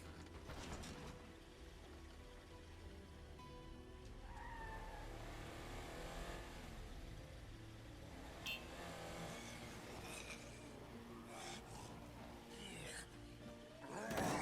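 A car drives in the zombie survival video game State of Decay 2, with engine revving and tires skidding, loud and continuous for the whole stretch, while a voice talks over it.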